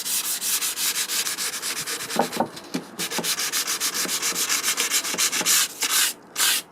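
Fine 1200 grit wet and dry paper is rubbed lightly back and forth over a model railway tarmac surface, a close, rhythmic series of soft scratchy strokes with brief pauses near the end; no talk.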